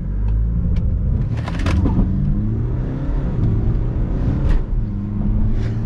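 A BMW launches from a standstill and accelerates hard in a drag run toward the mountains, its engine revving loudly and rising in pitch, heard from inside the car with a deep rumble throughout.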